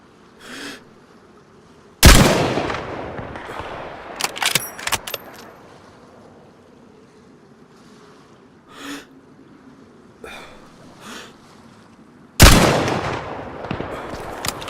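Gunfire with heavy recoil in DayZ on Chernarus: two loud, sharp broadband blasts about ten seconds apart, with a cluster of quick cracks between them and fainter shots scattered around.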